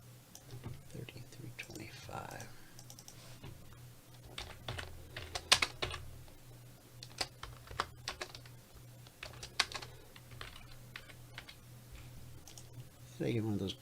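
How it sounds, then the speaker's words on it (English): Rapid typing on a computer keyboard at a trading desk, dense irregular clicks and clacks running throughout, fairly close, with a low hum underneath. "I get one of those keyboards that doesn't make any clicky clacks"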